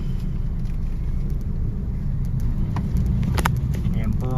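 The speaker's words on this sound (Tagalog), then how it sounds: "Ayan po ang sitwasyon ng traffic dito" Road traffic rumbles along C3 in Caloocan City, a steady, fairly loud drone of passing cars and engines close by, with a voice talking over it.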